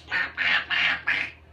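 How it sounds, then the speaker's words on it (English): A duck quacks four times in a steady, evenly spaced series, close and clear with no talk over it. "It's a duck, that's right."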